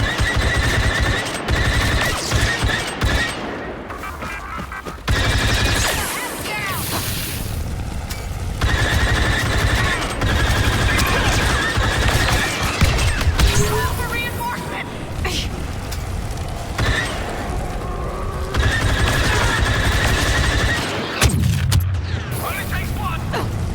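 Blaster fire in the sci-fi shooter Star Wars: Battlefront II, loud bursts of shots and booms mixed with dense battle noise, with voices talking over the action.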